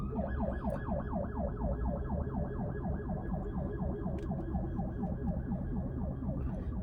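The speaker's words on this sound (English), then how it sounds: "That sounds like a really weird siren." A warbling emergency vehicle siren with an unusual, rapidly cycling wail sounds loud and steady throughout, with no talk over it.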